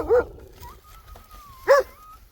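Two short, low dog growls about a second and a half apart from dogs with puppies nearby, rough and growly, with a faint whine trailing between them.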